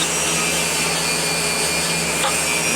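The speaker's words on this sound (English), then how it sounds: "I used 220 grit all the way on the sides just to get the scratches to be uniform." The sides of a knife sheath are sanded with 220 grit on a power sanding machine, giving a loud, continuous abrasive whir and hiss that holds steady throughout with no speech.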